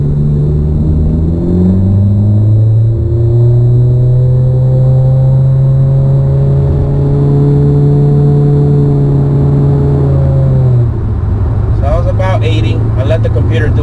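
Inside the cabin of a 2018 Honda Accord fitted with a Thermal R&D exhaust in sport mode, the engine drones loudly and climbs steadily in pitch while accelerating from about 30 mph, then drops off as the car shifts.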